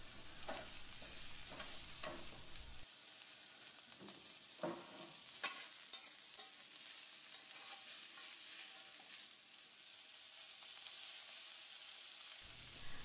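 Carrots stir-frying in a pan give a steady close sizzle with repeated scraping stir strokes, clearer in the first seconds and then softer frying hiss continuing alone.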